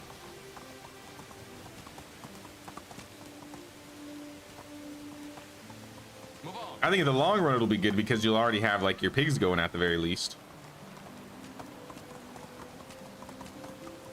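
Donkey hooves clip-clop steadily on the ground in the medieval farming game Medieval Dynasty, a quiet, regular stepping rhythm that continues under someone talking throughout.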